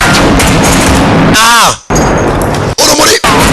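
Loud gunfire bursts and blasts in a dubbed action movie, dense and close, broken by short gaps, with a voice-over narrator talking throughout.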